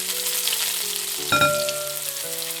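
Chopped garlic, ginger, split green chilies and curry leaves sautéing in hot oil, a close, steady sizzle with a brief clatter partway through and low tonal hum underneath.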